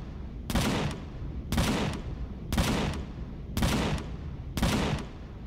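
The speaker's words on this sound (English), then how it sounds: "there's a little sentry gun up there shooting at it." A sentry gun in a video game fires five evenly spaced bursts about a second apart, each loud and crackling, with no one talking over it.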